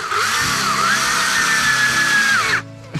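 Power screwdriver spinning a star-head screw into a rabbit cage under construction, a steady whining buzz with a rising and dipping pitch for about two and a half seconds, loud and close, then cutting off.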